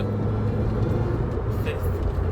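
Car driving in fourth gear with an odd noise that comes only on the accelerator, a steady loud broadband engine and road roar heard from inside the cabin, continuous with no pauses.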